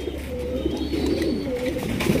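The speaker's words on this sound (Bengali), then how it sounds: "এখানে রয়েছে একটা ব্ল্যাকলেস শার্টিন কবুতর" Black-lace satin pigeons coo softly and repeatedly at close range, low rolling calls over a steady background hum.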